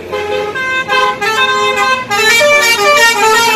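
A loud, close bus horn plays a multi-tone musical basuri tune in several quick repeated blasts.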